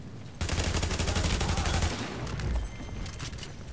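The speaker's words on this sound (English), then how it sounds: "I hear more shots in the back." Rapid bursts of automatic gunfire from a shooter video game, The Division, crackle loudly and almost continuously, then thin out into scattered shots toward the end.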